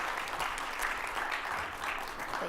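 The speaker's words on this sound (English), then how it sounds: "This would be the applause moment." Audience at a conference session applauds as presenters come on stage, a steady, moderately loud wash of many hands clapping with no talk.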